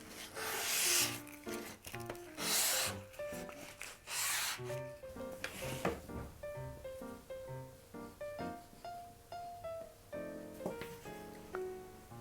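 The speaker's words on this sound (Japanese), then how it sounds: "背面のくっつくところもやすりがけ" Scratchy rubbing strokes of sandpaper on the back joint of a Seria 100-yen frame being made into a miniature display case, a series of short close passes with pauses between them.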